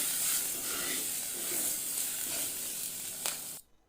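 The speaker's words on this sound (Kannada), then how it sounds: "1 ಈರುಳ್ಳಿಯನ್ನು ಇದಕ್ಕೆ ಹೆಚ್ಚಿ ಹಾಕ್ತಾ ಇದ್ದೀನಿ. ಅದನ್ನು ಕೂಡ ಸ್ವಲ್ಪ ಫ್ರೈ ಮಾಡ್ಕೊಳ್ಳೋಣ." Chopped onion sizzling in hot oil with asafoetida for a bottle gourd sambar, a steady close hiss that holds for several seconds, a brief crackle near the end before it cuts to silence.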